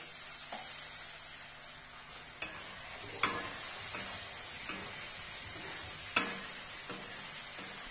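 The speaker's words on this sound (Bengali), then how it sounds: "অল্প জল দিচ্ছি, জল দিয়ে দিয়ে মশলাটা খুব ভালো করে কষবো।" Spice masala for chhole, with kasuri methi, sizzling and frying in a pan with a little water added, a steady soft hiss broken by a few sharp stirring clinks and spoon scrapes.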